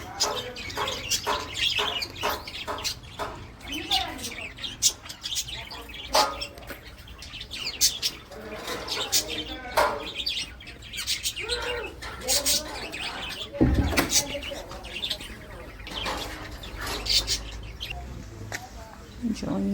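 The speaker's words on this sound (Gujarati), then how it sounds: "આમાં બર્ડ્સ એટલે કે ચકલીઓ નાની નાની છે અંદર." Small sparrows in a bird enclosure chirp and tweet in quick, busy, overlapping bursts at close range, while people talk nearby.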